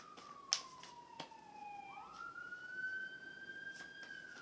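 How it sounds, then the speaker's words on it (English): A police siren passes outside, faint and distant, its wailing tone sliding down and then rising again, with a couple of sharp clicks close by. "Now they want to be coming down here with the dang siren"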